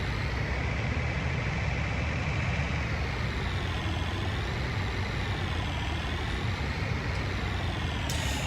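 A farm tractor pulling a trailer in Farming Simulator 19, a steady low engine drone running evenly throughout with a faint whine, close and unbroken, with no voices.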